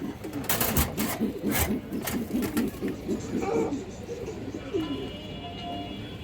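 Colourful old-lineage pigeons, including a brown-necked bird, coo in low, repeated rolling calls close by, with a steady mix of overlapping coos and faint background noise.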